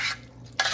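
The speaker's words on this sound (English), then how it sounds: "we're going to mix all this in and stir it around" A spatula stirs veggie ramen noodles in a hot sizzling pan, a short scraping toss with a brief louder stir near the end.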